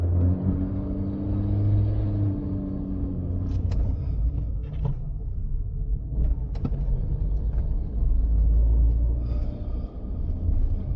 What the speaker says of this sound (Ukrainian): Включаємо першу передачу. Бачимо зелене світло. І розпочинаємо рух.